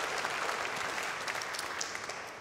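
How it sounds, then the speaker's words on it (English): A church congregation claps at a Sunday gathering service, a soft, even wash of applause at moderate distance that slowly fades toward the end. "That in itself is worth applause."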